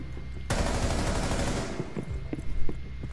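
Rapid automatic gunfire fired through a wall in Rainbow Six Siege, a loud, dense burst of shots lasting over a second before breaking off into scattered quieter clatter.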